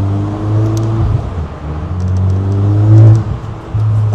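An open carbon-bodied sports car drives through Monaco with a close, steady engine drone. The drone briefly dips near the start and swells into a rev about three seconds in. No voices.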